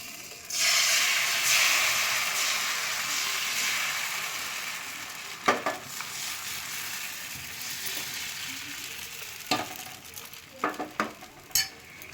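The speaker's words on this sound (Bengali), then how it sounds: "এবার আমি এক হাতা ব্যাটার দিচ্ছি" Thin neer dosa batter poured into a hot frying pan on a gas stove gives off a loud hiss and sizzle that slowly fades, broken by a few sharp clinks and scrapes, with no talking.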